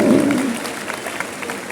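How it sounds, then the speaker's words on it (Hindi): Applause from a crowd after a performance at an Independence Day event, loud at first, with a voice or cheer in the opening half-second, then steady clapping that fades slightly. "जोरदार तालियां इतनी महत्वपूर्ण और बहुत ही सुंदर परफॉर्मेंस के लिए।"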